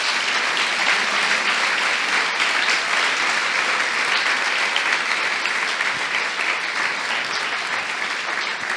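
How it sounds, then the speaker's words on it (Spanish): A church congregation applauds together, a dense and steady wash of clapping hands lasting several seconds without any voice over it. "A ver, un aplauso para Dios."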